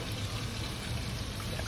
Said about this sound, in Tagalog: nalagyan din natin na kaunti tubig